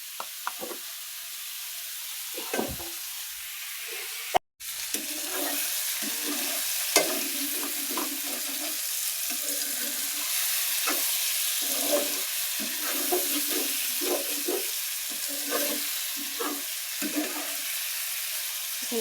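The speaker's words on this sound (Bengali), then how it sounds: "এখানে বেগুন তরাই এখন ভাজা হয়ে গেছে, কষে নিলাম তেলের মধ্যে।" Potato and eggplant pieces frying in oil in a home kitchen, producing a continuous sizzle with repeated stirring and scraping that stops for a moment and then resumes.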